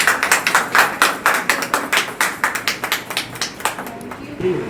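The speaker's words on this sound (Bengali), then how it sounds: "জোরে হাততালি" A small group claps loudly in honour of a mother at a gathering, with quick, distinct hand claps close by in a lively rhythm that lasts several seconds and then stops.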